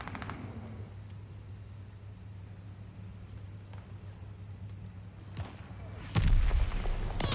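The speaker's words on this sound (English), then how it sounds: "They're sending mortar shells." Mortar shells explode in the Call of Duty Vanguard shooter: a dull thud opens, a muffled blast follows, and a louder, close explosion bursts near the end over a low, steady in-game rumble.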